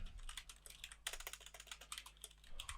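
Typing on a computer keyboard while writing HTML code, a quiet, steady run of close key clicks with brief pauses and no talking.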